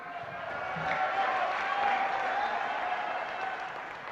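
Audience applause fills a party national working meeting hall, a steady wash of clapping and crowd noise lasting several seconds at moderate distance.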